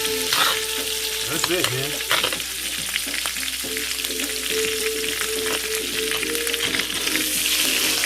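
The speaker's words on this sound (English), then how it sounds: "I'm going to go ahead and baste my salmon" Salmon stuffed with spinach and artichoke dip sizzles loudly and continuously in a pan while being basted, with spatters and scraping stirs throughout and a brief spoken remark near the start.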